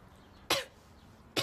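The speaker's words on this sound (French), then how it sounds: "J'ai juste toussé, là, désolé." Two short, dry coughs from one person, close and fairly quiet, spaced about a second apart in an otherwise still room.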